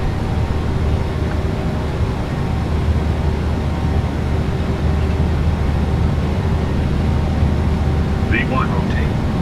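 Boeing 737-800 jet engines spooled to takeoff power on the runway, a steady loud low roar and whine filling the whole stretch, with a brief chirp near the end.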